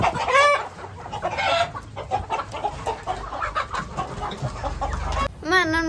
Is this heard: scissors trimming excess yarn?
no